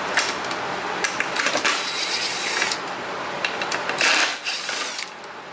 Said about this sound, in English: So let's remove those 2 screws right now.